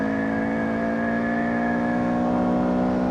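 A Honda Grom MSX125 motorcycle engine running steadily, with a continuous close, even drone that holds at a constant pitch throughout with no speech.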